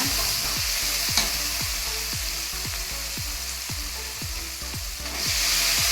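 Vegetables tossed into a tomato-and-spice tempering for hotel-style vegetable sagu fry with a steady close sizzle, punctuated by about a dozen sharp spoon scrapes and clinks against the pan at an uneven stirring rhythm, with no talking.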